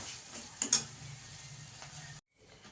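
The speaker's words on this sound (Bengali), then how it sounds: "মশলাটাকে একটু ভালো করে কষিয়ে নেব।" Spice paste sizzles and crackles steadily in a hot pan while being stirred, a close continuous frying hiss with a couple of brief scraping knocks, then cutting out abruptly near the end.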